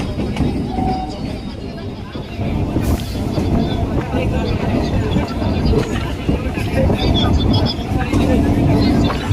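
Goghat local train leaving the main line at Sheoraphuli onto the Tarakeswar branch line, a continuous rumbling clatter heard from inside a crowded coach, with passengers chattering underneath.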